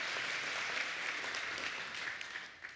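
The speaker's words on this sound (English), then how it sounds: "Let's just all clap." An audience claps together at a memorial celebration of life, a dense, steady burst of many hands that holds for a few seconds before thinning slightly at the end.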